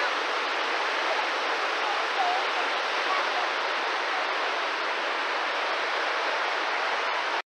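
The lower falls of a waterfall in Kentucky pour in a steady, full broadband rush of water, close and continuous, with faint voices barely audible beneath.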